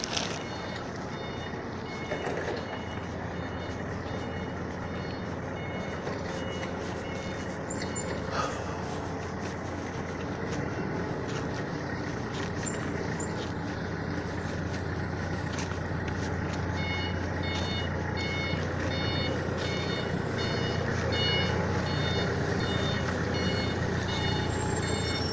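Heavy trucks idling and maneuvering at a loading dock in the morning, a steady reversing beeper pulsing throughout over a low diesel rumble, with occasional air-brake hisses and faint background clatter.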